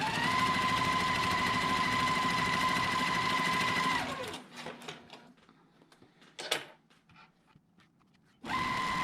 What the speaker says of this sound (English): And then we can stitch on that line also.